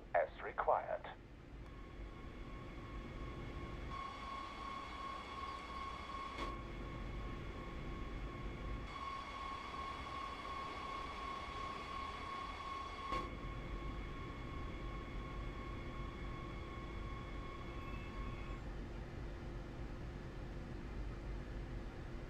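A Talent 2 electric train in the Train Sim World Rapid Transit simulator runs with a steady electric whine and hum that shifts as it brakes to a halt, under a continuous low rumble.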